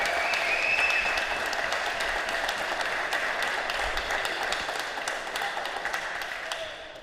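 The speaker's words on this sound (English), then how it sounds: "let's get a huge round of applause for these guys" Audience applause following a final at the David C. Johnson Jr. Memorial event, sustained even clapping from a crowd, gradually tapering near the end.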